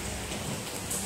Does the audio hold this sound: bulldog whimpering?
no